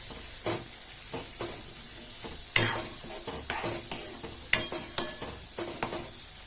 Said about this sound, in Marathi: थोडं पाणी घालायचं आणि छान मिक्स करून घ्यायची ही भाजी